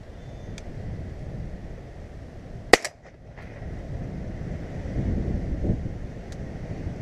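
A single sharp shotgun report cracks out during outdoor pigeon shooting over decoys, then fades against a steady bed of wind buffeting the microphone.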